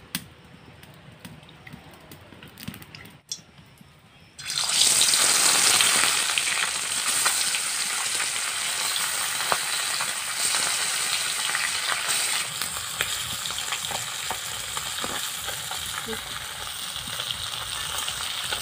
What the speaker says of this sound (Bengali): এবার মাছটাকে আমি ভালো করে ভেজে নেব।